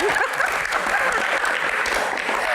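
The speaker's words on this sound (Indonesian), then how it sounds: "Tepuk tangan." Audience applause at a football Q&A show, a dense steady wash of clapping that holds at even loudness from start to finish with no voices over it.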